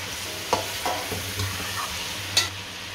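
Chicken karahi gets stirred in a pan over sizzling oil, with a spoon scraping and clinking against the metal a few times above a steady close frying hiss.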